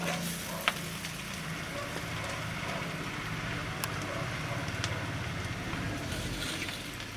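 Clam meat fries in a pan over a low flame, giving a steady, even sizzle with a few faint clicks and pops from start to finish.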